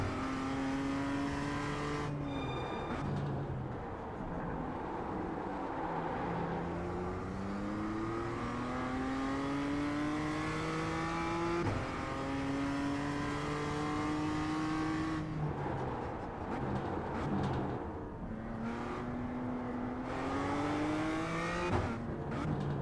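Race car engine in the iRacing sim, loud and steady, revving up through the gears in long rising sweeps with sharp drops at each shift, held close for the whole stretch with no talk.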